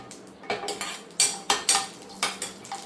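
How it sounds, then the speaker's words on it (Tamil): Semolina roasting in ghee in a pan for carrot halwa, a spoon scraping and clinking against the metal in irregular, sharp strokes, close and fairly quiet, with no talking. "லேசாக எண்ணெய் விட்டு ரவையை வறுத்துக்கிடோன்னு"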